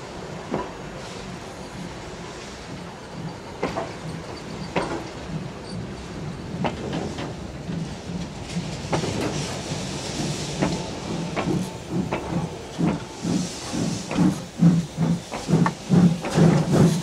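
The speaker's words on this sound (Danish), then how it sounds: "Så blev det tid til at lukke portene og rangere fra remisseområdet til Roskilde station." A historic train shunts from the depot area toward Roskilde station, its rumble building as rhythmic wheel clatter and chuffing beats grow louder and quicker toward the end, with a steady hiss underneath.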